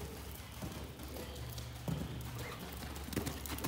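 Horse hooves clip-clop at a steady gait as the horse circles around ground poles in a barn arena, soft and fairly distant, with a few sharper hoof strikes standing out.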